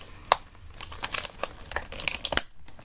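Scissors snip through plastic toy packaging for a Shopkins Season 8 figure, giving a few sharp cuts amid close, ongoing crinkling and rustling of the wrapper.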